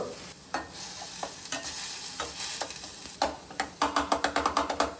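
Onion and garlic frying in a pan while being stirred toward golden, with a steady sizzle under sharp, close scraping strokes of a spatula that quicken into a rapid run of rhythmic scrapes near the end; no one speaks.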